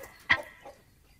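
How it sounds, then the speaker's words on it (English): A single short chicken cluck sounds once, fairly close, followed by a fainter second cluck, against quiet background. "Another chicken, clucking away."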